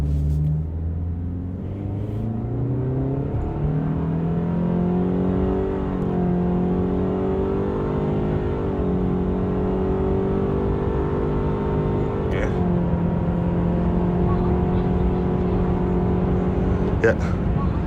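A 2023 Toyota Alphard MPV in manual mode accelerating from 0 to 100 km/h, its engine droning steadily with rising pitch and short shift dips, heard from inside the cabin, loud and continuous.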